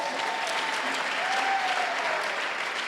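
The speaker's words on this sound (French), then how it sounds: "Est-ce qu'on peut bien l'acclamer?" A church congregation applauds in a sustained, dense round of clapping that fills the room, with faint voices mixed in.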